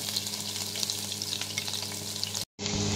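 Ginger and garlic sauté in hot oil and butter with a steady close crackling sizzle that breaks off in a brief total silence near the end, then resumes as a brighter hiss.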